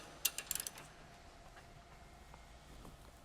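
A ratchet turning a 15mm deep socket to loosen suspension bolts on a Ford Mustang S197 gives a brief burst of close metallic clicks near the start, then faint background hum.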